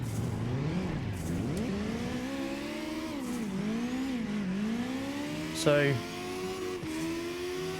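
A DTM 46 car engine in CarX Drift Racing revs repeatedly up toward its rev limiter, its pitch rising and falling in sweeps with a brief sharp burst near the end, while someone talks over it.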